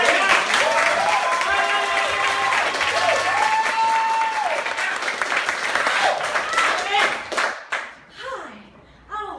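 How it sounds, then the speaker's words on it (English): Loud, sustained audience applause with cheering for a performer at a comedy monologue show, dense clapping that tapers off near the end as voices and laughter come through. "Big round of applause for Heidi!"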